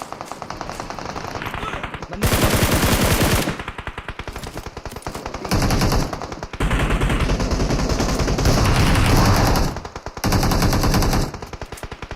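Bursts of automatic gunfire in the mobile battle royale game BGMI, rapid loud rattling volleys in several long stretches separated by short pauses, with a voice talking faintly between them.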